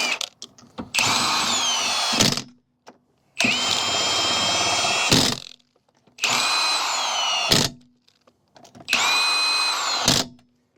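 A power tool runs in four separate bursts, each about two seconds long with short pauses between, as it tightens bolts on Techno Toy Tuning billet knuckles fitted to an AE86. The whirring is loud and close, with a ratcheting clatter at the end of each burst.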